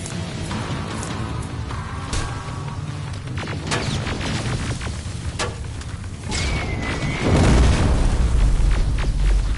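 Grenade blasts in the video game Terminator: Resistance, with scattered cracks and pops building to a heavy, close, rumbling explosion near the end, over constant combat noise.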